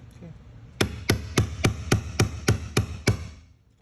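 A hammer strikes a chisel against the locking ring of a Titan 50-gallon fuel tank on a 2021 Ram 3500, giving nine sharp, evenly spaced metallic blows close by.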